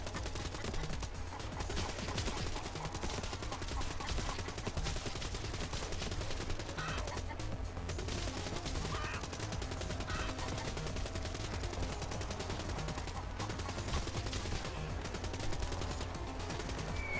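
Rapid continuous gunfire from a drone in the video game Call of Duty: Black Ops III, a dense unbroken rattle of shots at steady loudness throughout, with no pauses.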